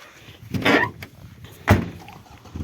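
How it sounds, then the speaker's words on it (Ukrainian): Doors of an old ZAZ Tavria car with a 1.2 engine, left standing outdoors for ten years, give two close, dull clunks about a second apart, with no talking in between. "відкриваються, закриваються дверки"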